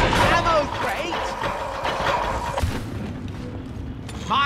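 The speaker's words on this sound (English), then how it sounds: "Getting ready to explode!" Explosions in Warhammer 40k: Darktide: several booming blasts and thuds ring out under battle noise, with characters shouting and talking over them throughout.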